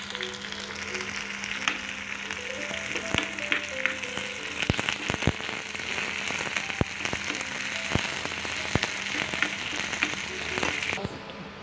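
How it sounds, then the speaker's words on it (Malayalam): Onions, chilies, mustard seeds and curry leaves fry in hot oil for a Kerala tender-jackfruit tamarind curry, giving a steady close sizzle scattered with sharp popping crackles from the seeds. "നമ്മുടെ വറുത്തിടാനുള്ള ഉള്ളിയൊക്കെ നല്ലോണം മൂത്തു മുളകും കടുകും എല്ലാം പൊട്ടി കറിവേപ്പിലൊക്കെ നന്നായിട്ട് മൂത്തു"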